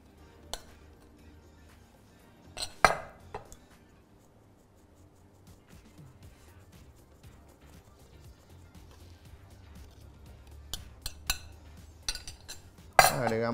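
A spoon stirs sifted powdered sugar in a bowl for homemade fondant, with quiet scraping broken by a few sharp clinks against the bowl, the loudest near the start and at the very end.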